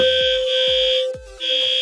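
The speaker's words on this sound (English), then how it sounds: "They are testing the fire alarms in our building" A building fire alarm under test sounds close and loud as a steady high electronic tone that breaks off briefly and resumes, layered with a pulsing low horn, with no talk.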